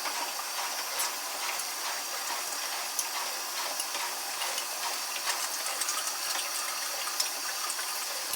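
Water runs steadily into a container with a continuous bright hiss and splash, close and unbroken, alongside a few faint clicks and knocks.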